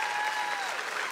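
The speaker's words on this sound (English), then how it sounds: "That's worth giving him some applause." A fundraiser audience breaks into brief, steady applause for a member named Joe, a full burst of many hands clapping at once with no pauses.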